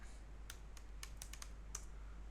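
Several faint, sparse keystrokes on a computer keyboard as a command and password are entered, spaced clicks over a steady low hum.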